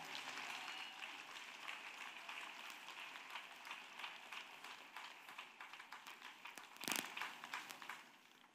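Applause from an audience at a French-language church gathering, a faint, steady patter of many hands clapping throughout, with one louder sharp sound near the end.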